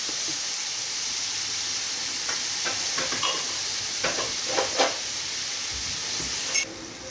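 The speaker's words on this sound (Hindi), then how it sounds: "प्याज को हम थोड़ा देर भूनेंगे।" Chopped onions fry in a pan with a steady, bright sizzling hiss, broken by light scrapes and taps of a spoon stirring, with no talking.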